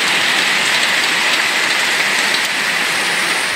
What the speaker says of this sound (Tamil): சூறைக்காற்றுடன் கனமழை பெய்ததால் சாலைகளில் மழைநீர் பெருக்கெடுத்து ஓடியது